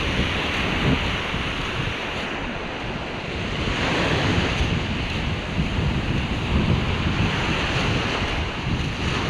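Sea waves wash continuously onto the beach at Nang Ram and Nang Rong in Sattahip, Chonburi, Thailand, a steady broadband surf roar with gusts of wind buffeting the microphone and no voices over it.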